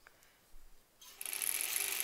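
Embroidery sewing machine stitching through bulky fabric, quiet at first and then starting up into a fast, steady mechanical buzz close by.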